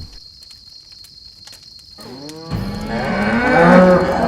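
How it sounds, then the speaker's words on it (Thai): Two white cattle moo loudly and close in a forest, a long drawn-out low call rising in strength over a steady high insect drone. "เสียงของวัวเผือกสองตัว ก็ปลุกให้ในห้อยปราการตื่นขึ้น"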